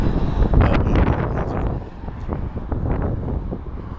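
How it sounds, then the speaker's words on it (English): Strong wind gusts at the north end of the Las Vegas Strip, reported at up to 70 mph, roar steadily as loud, broadband buffeting with no voices, easing slightly midway before surging again. "the wind isn't that bad. It's just the wind gust"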